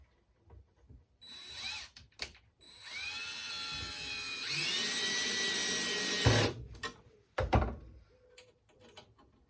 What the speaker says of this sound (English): to be able to get access to get these screws in